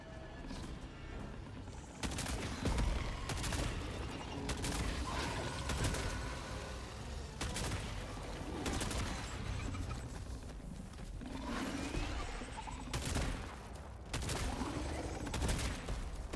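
Rapid gunfire from a video game primary weapon firing at a Battle Titan, with repeated sharp bursts and single shots at fairly even intervals over a steady background rumble, loud and close.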